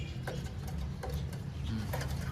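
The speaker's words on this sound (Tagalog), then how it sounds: "naglalambingan yung mga ibon natin" Pigeons pairing up at a nest give soft, repeated coos with a few light ticking sounds among them. The calls are fairly close and quiet, and nobody talks.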